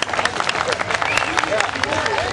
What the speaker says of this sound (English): Let's give this fine pastor a round of applause